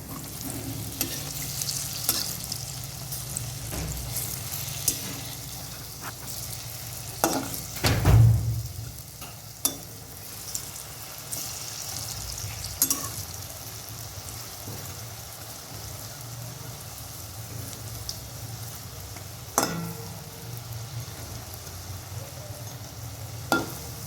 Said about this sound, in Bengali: বড়াগুলো উল্টে দেবো